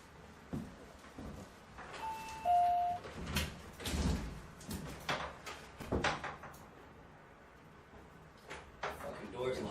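A locked door is tried and rattled on a film set: several sharp knocks, thuds and clattering jolts of the handle and frame, with a short tone, and voices speaking in between.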